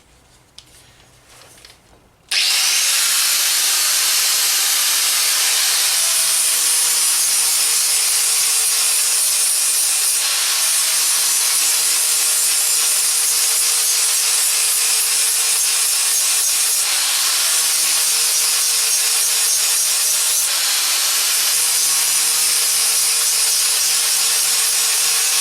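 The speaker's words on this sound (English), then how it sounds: "I'll show you can fetch these things out with the grinder first" A grinder working down a metal panel during planishing and polishing, loud and close, with a steady abrasive roar that starts abruptly after a quiet moment and rises and dips slightly as passes are made.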